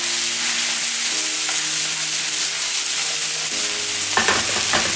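Ingredients for a spicy tomato chili sauce frying in a pan, a steady loud sizzle with stirring throughout, a few scraping knocks near the end.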